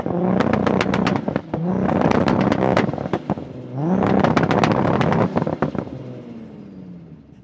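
Two heavily tuned drag cars, an 800bhp Nissan GT-R and a 900bhp Toyota Supra, rev hard in repeated sharp blips and sustained high-rpm bursts, loud and close with crackling exhaust pops, no talking.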